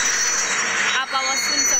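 A toy train runs with a loud, hissing mechanical whir close by, a brief dip midway before the noise resumes.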